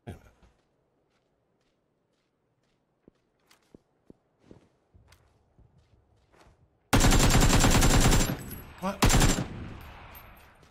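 Heavy PUBG gunfire erupts loudly after a quiet stretch of faint footsteps and small clicks, with a dense burst of rapid shots followed by a few more loud reports near the end.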